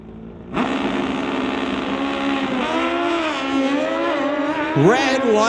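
A Suzuki superbike launches hard at a drag strip, its engine roaring loud and close with rising, shifting revs over about five seconds, ending in a sharp rev spike.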